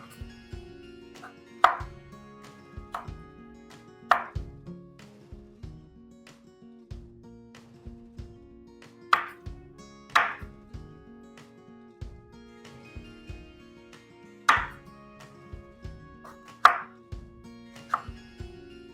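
A knife chops brinjal and okra on a board in a home kitchen, sharp knocks landing in uneven bursts with short pauses between them, close and clear with no talk.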